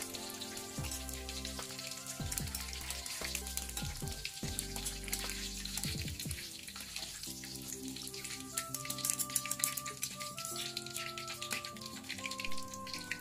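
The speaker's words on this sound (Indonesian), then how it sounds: "Goreng sampai garing." Small anchovies (teri nasi, teri Medan) frying in oil for a crispy balado dish give a steady crackling sizzle, with music playing alongside and no talk.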